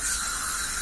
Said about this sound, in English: So I'm just doing some spray downs.